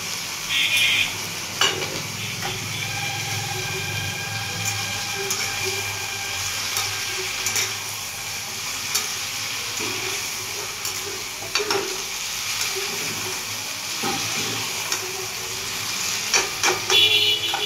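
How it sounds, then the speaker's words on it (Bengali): Something frying with a little turmeric in a pan hisses steadily and fairly softly, broken now and then by spoon clinks and scrapes, with a voice talking briefly over it. "ভালো করে ভাজবো। এখন নুন দেব না, এখন জাস্ট একটু হলুদ দেব"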